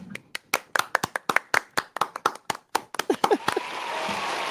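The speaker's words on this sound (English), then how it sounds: "let's take a moment with Hunter here with us and applaud the great Hunter Reed" An audience at a South Carolina sports talk gathering applauds a guest with a handful of sharp, distinct claps in an uneven rhythm, close and loud, that thin out into a continuous hiss at the end.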